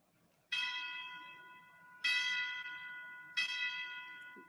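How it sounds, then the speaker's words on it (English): A bell rings out three times at slow, spaced intervals, each clear metallic strike ringing on and fading before the next, fairly faint overall. "Bells will be ringing."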